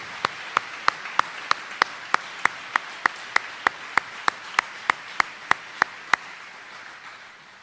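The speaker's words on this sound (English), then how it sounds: "How about a big round of applause for our faculty?" Graduation audience applause for the Hilton Head Preparatory School faculty: crisp, evenly spaced claps sound close and steady over quieter background clapping, then thin out near the end.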